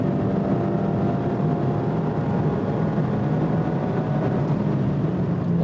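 A 2024 Mazda MX-5 Miata ND3 accelerating hard out of the carousel at Sonoma on a race track, a steady, loud engine drone from inside the car blended with road and wind roar, with no talk.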